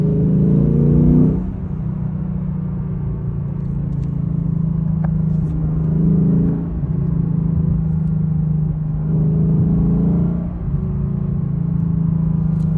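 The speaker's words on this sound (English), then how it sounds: "No pops, no bangs, just exhaust, a little bit of engine note." A 2022 Lexus RC F on the road gives a steady, close engine and exhaust drone with low rumble, swelling gently a few times as the throttle changes, with no pops or bangs.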